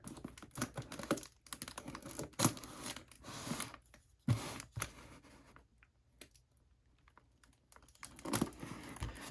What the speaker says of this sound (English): Let's go ahead and get this box open. A lot of tape on this bad boy.